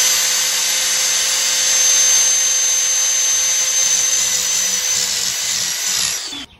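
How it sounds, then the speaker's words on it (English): Angle grinder beveling and chiseling the end of a Traxxas XRT RC truck part, a steady loud high-pitched whine held for about six seconds before cutting off abruptly. "I'm gonna hit this with a grinder and just kind of chisel and"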